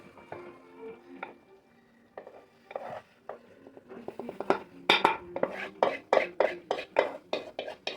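Scoops of three-quarters-cooked jeerakasala rice dropped into a pot for chicken biryani, starting with soft scattered clinks, then a steady series of sharp scraping spoon-and-pot strikes.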